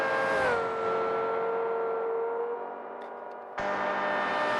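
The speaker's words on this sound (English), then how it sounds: "You can hear that engine roar, scream more rather, into the heavy braking zone" A GT World Challenge race car screams at high revs on the Bathurst circuit, its steady engine tone sliding downward as it brakes hard, dipping briefly before another loud surge of engine noise.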